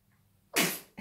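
A young boy's single sharp sneeze bursts out after a quiet moment, close and loud, followed by a brief second breathy sound.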